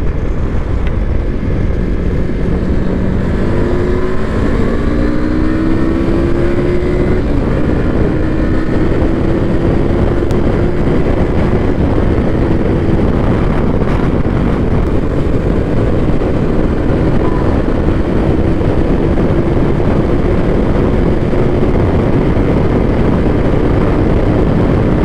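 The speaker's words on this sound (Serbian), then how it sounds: "da pređemo na testiranje ubrzanja i da vidimo kako se ponaša tu motor" Loud, dense engine roar from a motorcycle accelerating on a highway, with rising engine tones over heavy wind rush that never lets up.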